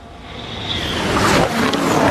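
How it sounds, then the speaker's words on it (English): A Red Bull Formula 1 car howls through the final chicane during practice at the Canadian Grand Prix, a loud high-pitched engine roar that swells steadily as it passes close by. "This is the sound of Verstappen making his way through that final chicane"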